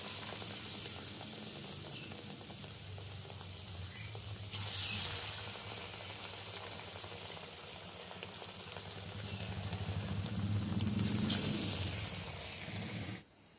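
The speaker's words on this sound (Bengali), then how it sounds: "আলুরিগুলো ভাজা হয়ে গেছে এবার তুলে নেবো" Thin potato slices frying in oil in a wok, a low steady bubbling sizzle that swells louder toward the end, with a couple of brief hissing bursts, no speech.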